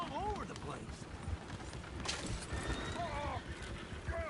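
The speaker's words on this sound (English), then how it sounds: "Oh, shit, the horses! Damn horses!" Horses neigh and whinny in a busy outdoor scene, with several rising and falling calls over clip-clopping hooves and general commotion, fairly faint overall.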